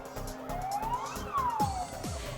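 Sirens from arriving fire department vehicles, a command car, pump truck and ambulance of the Yanggu fire station, wail in long rising and falling sweeps during a safety drill in Yanggu, with engine rumble and overlapping siren tones.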